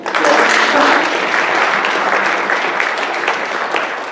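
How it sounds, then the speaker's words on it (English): A church congregation claps steadily for a newly hired part-time children's ministry worker, a dense, even wash of many hands that holds at full strength and eases only slightly toward the end. "Everybody clap for that"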